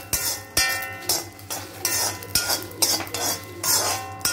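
Dry red chilies stirred in a hot pan, a spoon scraping and clinking against the metal in quick repeated strokes with a faint sizzle underneath.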